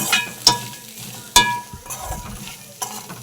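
Coconut, onion and garlic being sautéed in a pan for peanut chutney: a steady sizzle with sharp spoon scrapes and clatters against the pan at intervals, close and fairly loud, with no voices.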